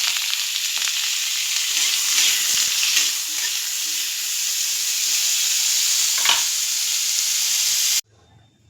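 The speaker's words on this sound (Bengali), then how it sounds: "কড়াটা গরম হয়ে গেলে কিছুটা সামান্য সর্ষের তেল দিয়ে দিলাম, এবং কেটে রাখা যে কুমড়োগুলো ছিল সেটা হালকাভাবে ভেজে নিলাম" Pumpkin pieces fry in mustard oil in a hot wok, a steady close sizzle with faint stirring scrapes, cutting off abruptly near the end.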